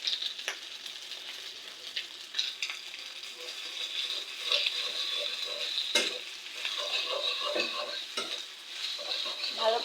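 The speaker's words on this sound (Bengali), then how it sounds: "এই পাস্তাগুলোকে ভেজে এবার আমি মশলা দিয়ে দিচ্ছি।" Boiled pasta frying in a pan with spices being stirred in, a steady close sizzle with scraping stir strokes throughout and no talking.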